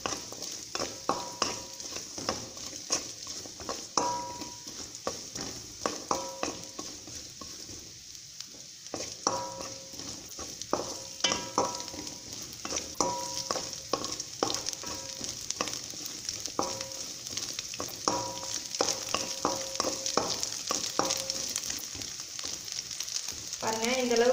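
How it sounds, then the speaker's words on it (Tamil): Ingredients roasting in ghee in a pan for jackfruit payasam, with a steady sizzle and repeated stirring scrapes and taps running throughout at close range. "நல்லா நெய்யில் ரோஸ்ட் பண்ணிக்கலாம்."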